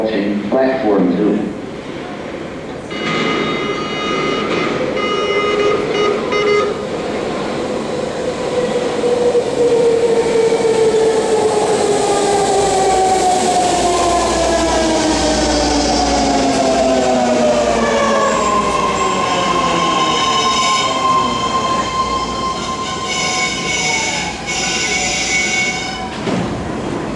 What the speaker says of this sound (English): Our Fremont train now approaching platform two.